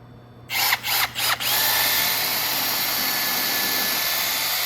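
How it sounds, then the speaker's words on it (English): A power drill pulses in a few quick bursts, then runs steadily with a high whine as it pre-drills holes into wood for a bench leg. "And then I'm going to pre-drill these 4 holes."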